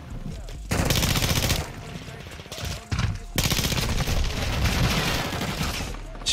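Video game gunfire on Xbox comes in loud, rapid automatic bursts separated by short pauses, with a voice faintly underneath at times.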